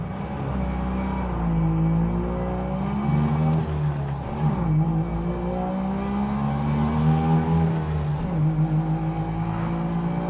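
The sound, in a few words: car engine accelerating on highway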